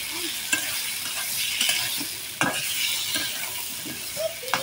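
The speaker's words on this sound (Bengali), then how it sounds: "গুঁড়োর ভিতরে টমেটো দিয়ে দিলাম" Tomatoes sizzle and fry in spice powder in a pan, a steady close crackle with sharp stirring scrapes and clinks at irregular intervals.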